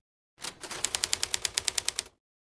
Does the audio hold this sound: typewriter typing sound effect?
yes